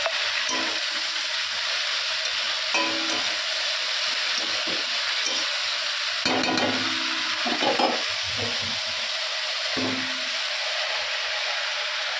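Leafy greens sizzle steadily in hot oil with fried onion, a loud constant hiss broken by several scraping stirs and clanks of a utensil.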